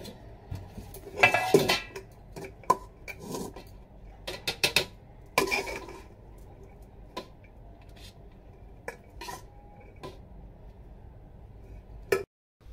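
Dishes and steel utensils clatter in a home kitchen as rice is served onto two plates, with sharp clinks in bursts and quieter gaps between, close and fairly loud with no talking.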